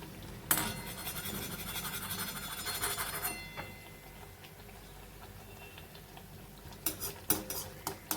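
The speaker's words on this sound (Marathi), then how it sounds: "कडेनी असं तेल उडवायचं म्हणजे मस्त टप टम्म फुगतो वडा" Vada dropped into hot oil for frying, with a steady sizzle, bursts of spattering, and a few sharp clinks of a utensil against the pan.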